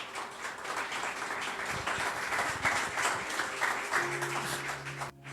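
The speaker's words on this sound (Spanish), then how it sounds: "Denle un aplauso a la palabra de Dios" A church congregation applauds steadily, many hands clapping together in a dense, sustained wash that fades near the end.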